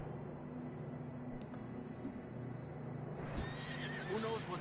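Horses in the Red Dead Redemption II video game whinny and clop their hooves over a low ambient bed, the neighs faint and intermittent with a brief rising whinny toward the end.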